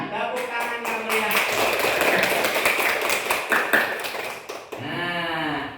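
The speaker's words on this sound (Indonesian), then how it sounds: "Tepuk tangan yang meriah." A classroom group claps together in a dense, lively patter that carries on for several seconds, with children's voices mixed in and a voice speaking after the applause.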